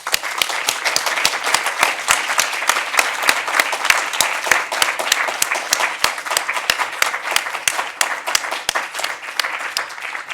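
Audience applause at a panel event on accountability and a special tribunal, a steady crowd of hands clapping throughout, with sharp individual claps standing out near the front.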